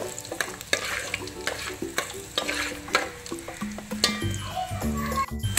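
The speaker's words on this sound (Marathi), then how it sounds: "आपले सगळे खडे मसाले याच्यामध्ये घालायचे, चांगले घालायचे. ते पण चांगले भाजून घ्यायचे." Whole spices roast and fry in hot oil for a mutton korma masala, with a steady sizzle, a spoon scraping and stirring in the pan, and a few brief tonal sounds in the background.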